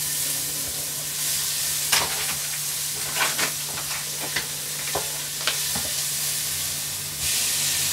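Onions sizzle and crackle steadily in hot oil in a saucepan, with occasional sharp pops and scraping stirs.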